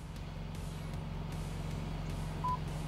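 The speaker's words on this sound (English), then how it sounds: "If I hold it for a couple seconds, there's one beep" One short, fairly faint electronic beep from a Ford F-150 Raptor's seat memory near the end, over a steady low engine hum inside the truck.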